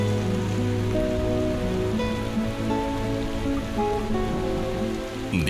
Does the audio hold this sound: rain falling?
yes